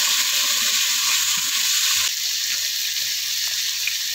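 Onions and garlic sautéing in a pan for a Filipino ampalaya dish, giving a steady, even sizzle that runs unbroken and fairly loud with no voices.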